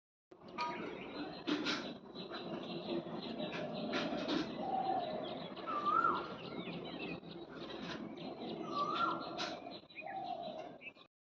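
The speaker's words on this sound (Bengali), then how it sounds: "সকাল সকাল দেখছি কোকিল ডাকছে একদম চারিপাশে।" An Asian koel calls in the morning with a few clear, rising whistled notes that repeat at intervals over a soft outdoor background and scattered chirps.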